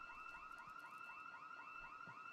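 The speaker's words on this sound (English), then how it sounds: "Okay, I wonder where this alarm gone off." A car alarm wails inside a video game, its repeating rising whoops sounding steady and moderately loud over a faint background, with no talking.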